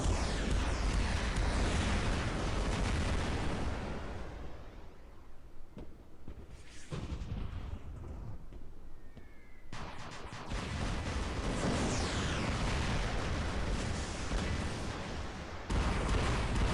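Heavy artillery pounds away in the War Robots video game, loud rolling booms and shell blasts packed close together. The barrage briefly thins to a few scattered thuds, then returns at full strength.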